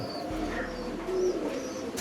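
Jumbo size fantail pigeons coo softly and repeatedly at a pigeon farm in Jaffna, low rolling calls close by against a faint background hum, with no talking.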